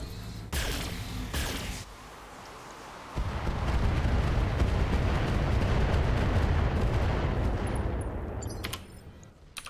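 Mech weapons fire and explosions in the video game Battletech: a few sharp blasts up front, then a long, loud rumbling barrage that fades near the end.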